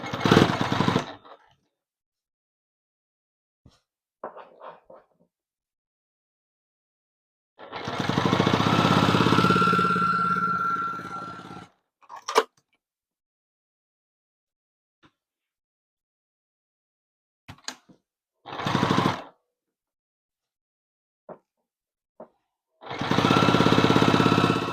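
Sewing machine stitching pinned quilt pieces for an improv wonky-star and wonky-house coverlet, running in several separate bursts of a few seconds each, with quiet pauses between them.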